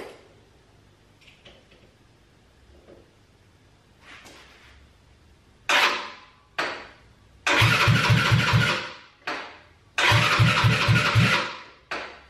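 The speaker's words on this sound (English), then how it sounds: "Once I release that, the bike should hopefully start." A 232cc drag scooter engine cranked by its starter in several bursts, the later attempts loud and close, with a rapid pulsing churn that cuts off each time and never settles into a steady idle.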